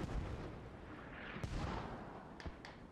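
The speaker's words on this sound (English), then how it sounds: "so Pink Mist mortars are still firing" Mortar rounds fire and thud in a Squad match, a few hollow booms landing in a low, rumbling battlefield mix. The blasts sit at mid distance and rise only a little above the constant background. No voice is heard.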